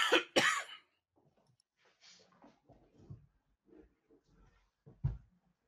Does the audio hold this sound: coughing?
yes